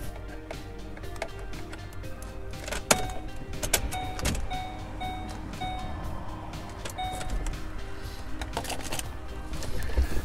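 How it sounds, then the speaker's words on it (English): Car wipers running while the engine idles inside a parked car, heard as faint repeated motor whirs and soft mechanical clicks and thumps over a low steady hum. "I'm just going to turn on the car, turn on my wipers"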